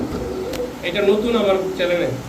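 Pigeons in a market setting, with silver khaki and other fancy breeds offered for sale, coo in a few soft, rolling calls close by while people talk over them.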